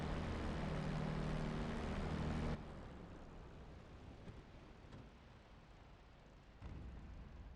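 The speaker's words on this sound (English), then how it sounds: "Set the fuel mixture to idle cutoff to shut down the engine." In a flight simulator game, the engine of a P-51D fighter roars loudly and steadily, then drops abruptly to a much quieter, rough rumble as it shuts down. A soft mechanical bump follows near the end.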